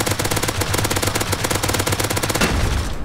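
An auto turret in the video game Rust fires rapid, loud machine-gun bursts, a dense close rattle with regular pulses for about three seconds, no talking.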